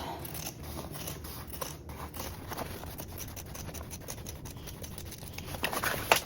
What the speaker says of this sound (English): We're gonna trim down the remaining part of it.